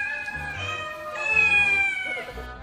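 A house cat meows several times in close, drawn-out calls, some rising and wavering, with faint background sound between them.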